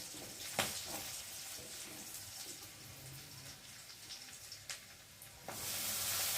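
Chopped water spinach (kalmi greens) hits onions frying in a pan, giving a steady hissing sizzle with a few sharp bursts, close and moderately loud, with no talking.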